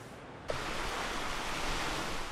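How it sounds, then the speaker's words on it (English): Muddy brown floodwater breaks and laps against the shore of Lake Marble Falls in Llano County, Texas, a steady wash of surf noise with wind, constant and fairly loud throughout. "today it's much more like the muddy Mississippi River, complete with brown breakers lapping the shore"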